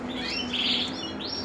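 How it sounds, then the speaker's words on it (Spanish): Canaries chirping inside a cage, a steady stream of bright, overlapping tweets and trills, close and continuous with no talking. "Mira cómo están los pajaritos."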